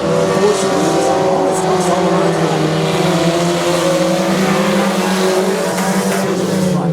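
Race cars circling Sabine Speedway at night, engines droning loud and continuous with layered overlapping motor tones, an announcer talking over the roar throughout.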